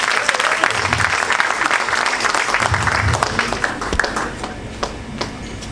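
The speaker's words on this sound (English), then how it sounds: "A big round of applause for him." A large audience applauds for former Nigerian president Obasanjo, steady clapping from a crowd that stays loud throughout, then thins slightly toward the end.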